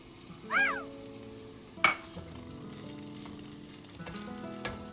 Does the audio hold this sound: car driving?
no